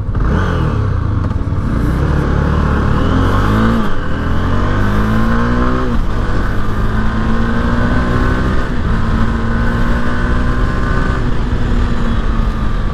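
Honda CB 300F motorcycle pulling through gears on a city ride, the engine climbing in loud, close revving sweeps that drop at each shift and build again under steady wind rush.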